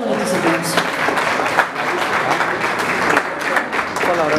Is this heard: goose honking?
no